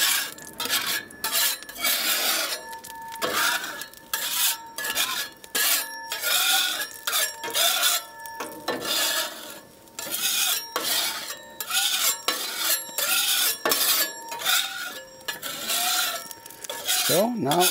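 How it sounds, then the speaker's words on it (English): A metal spatula scrapes and spreads oil across a cast iron grill plate outdoors, giving a steady run of raspy metallic scraping strokes, close and fairly loud, with no talking. "So I can clean the spatula here. So, I just distribute the oil."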